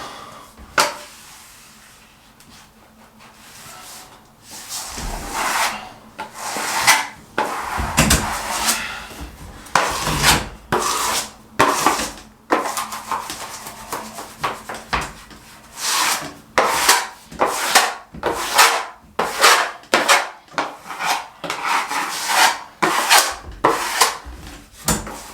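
A wallpaper whiz or sweep is dragged down a wall to flatten it, giving repeated rasping scrapes in a steady rhythm, close and fairly loud, with short pauses between strokes; no voices.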